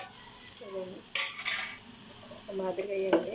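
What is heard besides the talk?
ivy gourds frying in a pan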